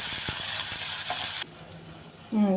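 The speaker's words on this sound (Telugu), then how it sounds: "ఇలాగా ఈ మెంతికూర అంతా ఇలా బాగా వేగనివ్వాలి" Fenugreek leaves fry in a pan with lentils, mustard seeds, cumin, curry leaves and dried red chilies, giving a loud close sizzle with stirring scrapes that drops sharply to a quieter hiss partway through.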